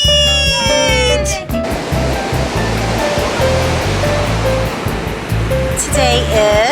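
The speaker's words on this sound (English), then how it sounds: "Now we're here on the private beach." Ocean surf rolling onto a private beach, a steady close wash of broadband roar filling the whole stretch, with a voice and some melodic sounds at the start and end and background music woven underneath.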